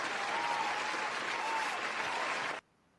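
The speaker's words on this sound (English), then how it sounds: "Do I got any applause here?" Dense crowd applause rings out steadily for a couple of seconds, then cuts off abruptly, leaving near silence.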